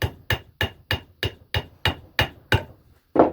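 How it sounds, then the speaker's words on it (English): A hammer knocks a wall plug into a brick wall with about nine sharp, evenly spaced blows, close and loud, followed by a brief pause and one last heavier strike. "knock your raw plug in"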